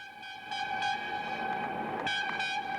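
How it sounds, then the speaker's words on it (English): A train arriving at the British end of the Channel Tunnel sounds a steady, tonal horn or whistle blast that swells in pulses over a faint background rumble, moderately quiet and heard alone. "When the train carrying the two breakthrough tunnellers and the VIPs arrived at the British side"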